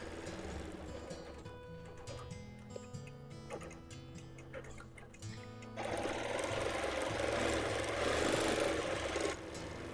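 A sewing machine stitches a quilted pillow with straight-line quilting, making a quiet rapid ticking patter in short bursts that turns into a denser, louder continuous run in the second half.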